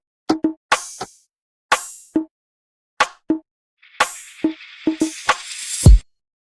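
Conga and snare samples play together in a beat: short dry plops and knocks in a loose, repeating pattern, with crisp snare hits, a bright hissy cymbal-like wash near the end and a low boom to close.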